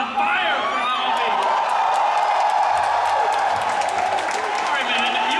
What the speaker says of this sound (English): this crowd is just on fire for Navi